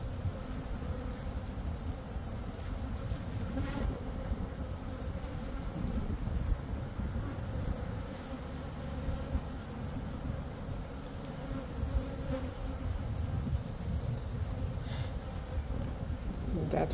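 Honey bees drone steadily around a hive while a mating nuc is being set up outdoors, a continuous close buzzing that holds through the whole stretch with occasional louder passes.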